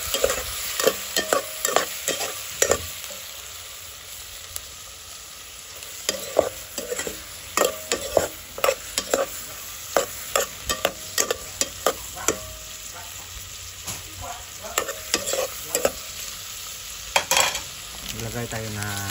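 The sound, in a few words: shrimp frying and being stirred in a pan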